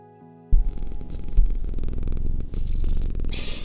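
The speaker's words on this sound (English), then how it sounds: "You can hear him purring" A cat purrs close to the microphone, a steady rhythmic rumbling throb, with some rustling of fabric mixed in.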